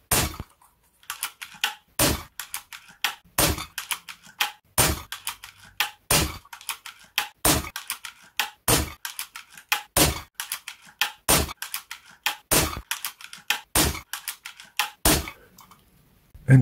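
A Zbroia Kozak bullpup rifle fires a full magazine, a long string of sharp, evenly paced shots, each followed by a faint mechanical clatter and echo, heard alone at moderate distance.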